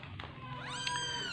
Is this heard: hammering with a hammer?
no